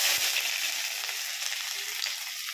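Panch phoron, a mix of whole spice seeds, hits hot oil in a pan with a steady, bright sizzle and crackle that stays loud and continuous throughout, with no voices.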